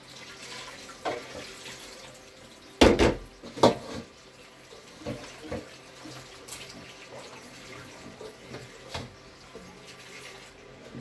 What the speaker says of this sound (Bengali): এই মাংসগুলো রান্না করার জন্য এখন আমি ধুয়ে নিয়ে মাংসগুলো তুলে দেব